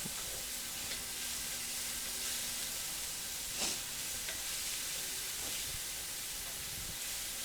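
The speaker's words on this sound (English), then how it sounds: "we're going to let that cook for about 30 seconds, no more. You don't want to burn garlic." Garlic sizzles in a hot pan, a steady broadband frying hiss with occasional soft stirring clinks, continuous and fairly close, with no talking.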